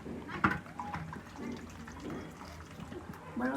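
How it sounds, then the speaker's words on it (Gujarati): Water gushes steadily from a tap into a container, a continuous rushing pour with a few louder splashes, with faint voices nearby. "પાણી તો ફૂલ આવે જ છે"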